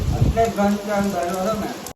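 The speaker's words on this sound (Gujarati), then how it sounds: "વરસાદ એને ઉભો રહેવાનું નામ નથી લેતો" Heavy rain gives a loud, steady patter and hiss, while a voice carries over it for most of the stretch before the sound cuts off abruptly.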